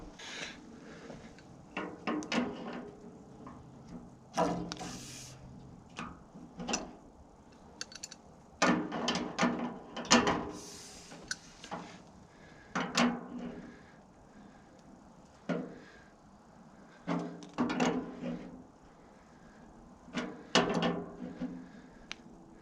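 Metal clinks, clicks and ratcheting clatters from a wrench being fitted and tightened on fittings of an on-demand water heater, coming in scattered close bursts with quiet gaps between them.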